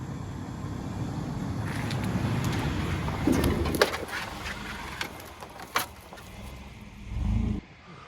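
An AWD van rolls along a rough backcountry off-road trail with its all-wheel drive not engaged, giving a steady low rumble of engine and tyres, sharp knocks and creaks from the rough ground, and a louder surge near the end.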